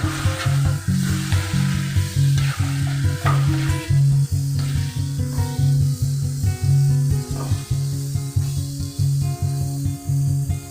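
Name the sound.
stirring soya pickle mixture in pan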